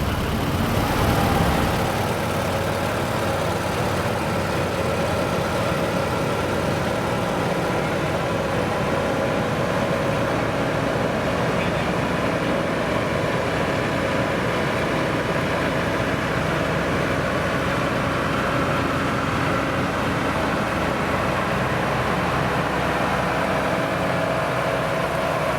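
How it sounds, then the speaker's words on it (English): An Allis Chalmers tractor rumbles past in an outdoor summer festival parade, a steady low engine drone with broad outdoor noise that holds at an even level throughout. "And our cheerleaders are followed by Russ Reichard and his Alice Chalmer tractor"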